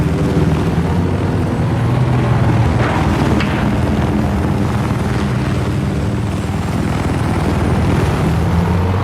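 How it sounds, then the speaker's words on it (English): An enemy helicopter in a video game thrums steadily with a loud, continuous rotor drone, holding at constant strength throughout with no talk over it. "There appears to be an enemy helicopter east of your location."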